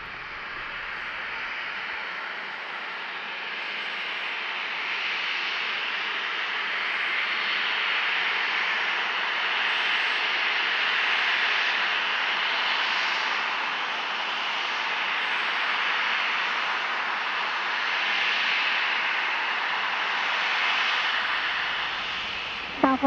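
A Southwest jet airliner's engines roar as a steady, broad rumble that slowly swells and fades at San Diego International Airport, fairly loud and continuous with no talk.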